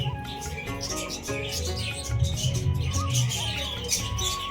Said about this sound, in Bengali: এখানে পাখিরালয় আছে নানান রকমের পাখি আছে দেখো বন্ধুরা